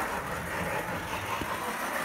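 A McKean model train car running around a small home layout, a continuous close rumbling whir of wheels and motor, steady and even with no breaks.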